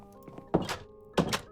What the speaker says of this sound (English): I don't think those doors have been closed in like years